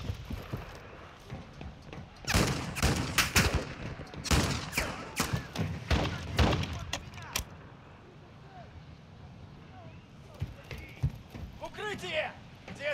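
A dense burst of rapid gunfire in the video game DMZ lasts several seconds, then fades to scattered distant shots while radio-style voices talk over the scene.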